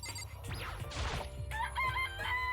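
Chickens in the Danganronpa video game cluck and crow, the calls loud and close, overlapping one another across a couple of seconds with no talk.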